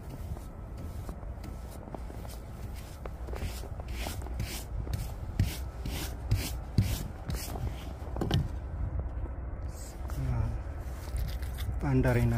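Repeated brisk strokes of a brush sweep thick snow off a car's surfaces in a small Saskatchewan town, rhythmic scraping swishes up close, followed by some thumps near the end.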